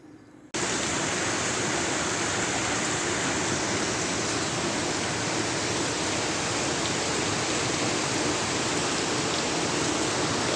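Steady rain pours down outside in the evening, a dense, constant hiss that starts abruptly and runs on without letup, loud and close with no voices.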